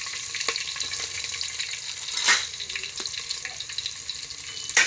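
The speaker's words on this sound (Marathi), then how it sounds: "आणि आता आमटी आपल्याला फोडणीला द्यायची आहे." Roughly crushed garlic and curry leaves sizzle and crackle in hot oil in a pot for a Marathi amti tempering, a steady close frying hiss with a couple of sharper spitting bursts.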